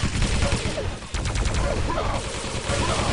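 Machine gun fire in the Quake Live video game during a team deathmatch: rapid, rattling bursts of shots with a short gap before another fast volley, loud and close amid dense game noise.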